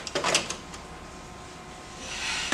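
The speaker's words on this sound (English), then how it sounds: "and then reinsert all 4 drums." Drum units are slid back into a Xerox AltaLink C8000 printer with a few quick plastic scrapes and clicks near the start. A quieter stretch follows, then a soft sliding rustle at the end.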